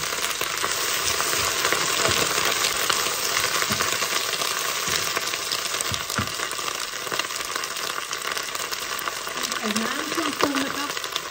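Wild garlic stalks stir-fry in a wok over high heat in Denmark, a loud, continuous hiss and crackle of sizzling with occasional scrape of stirring, while someone speaks briefly near the end.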